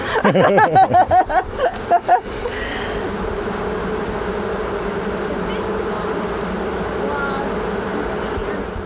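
A loud, continuous drone of many bees buzzing close by, with a few sharp bursts of nearby wingbeats at the start before settling into a steady hum.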